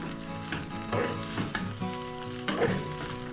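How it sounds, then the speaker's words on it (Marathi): Kanda poha sizzles and fries in a pan as a spoon stirs it up from the bottom, with scraping strokes recurring every second or so over the steady sizzle. "परत खालून असं मिक्स करून घ्यायचं म्हणजे खाली चिपकत नाही जास्त"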